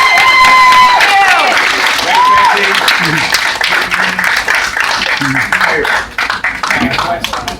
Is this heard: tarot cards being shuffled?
no